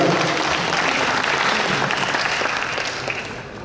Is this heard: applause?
yes